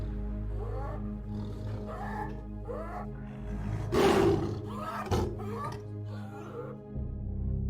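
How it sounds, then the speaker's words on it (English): A tiger roars amid a series of deep, rumbling grunts. One loud, reverberating roar peaks in the middle, followed by further throaty calls, with a narrator's voice partly under the sound. "The tiger's reverberating roar paralyzed entire villages"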